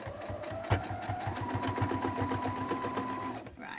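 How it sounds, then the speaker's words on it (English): A sewing machine stitches along the folded end of a fabric cushion tab in a quick, steady mechanical rhythm, close and clear, stopping abruptly near the end. "And I'm just going to stitch along the end."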